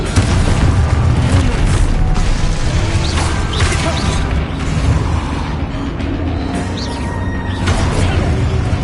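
Explosive spells go off in the Hogwarts Legacy video game: a dense, loud barrage of booms and crashing blasts that rumbles continuously with scattered sharper impacts.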